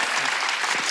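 Congregation clapping together at a Wednesday worship service of a Korean church, a dense, steady wash of many hands held at even loudness for the whole moment.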